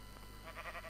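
A sheep bleating in the Minecraft video game, one short wavering bleat heard faintly over a steady background hum with no speech.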